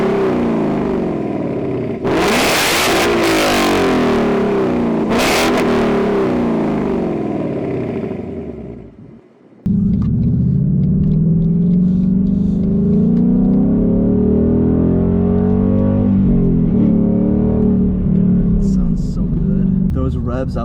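A Ford Mustang GT fitted with an X-pipe revs repeatedly, loud rising engine sweeps with a throaty exhaust note, a brief drop to near silence, then a sustained growling idle and revving with some talk over it.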